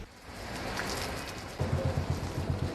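Rain from Typhoon Milenyo falls steadily in Navotas and Malabon, a dense hiss of drops on surfaces, with louder rhythmic low thumps and rumbles joining partway through; no one speaks.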